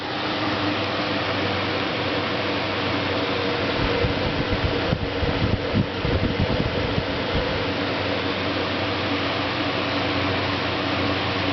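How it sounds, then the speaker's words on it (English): A 1990s Duracraft 10-inch box fan whirs on low nearby, a steady airy hum and rush with a brief rumbling disturbance midway. "Pretty powerful for a 10-inch box fan."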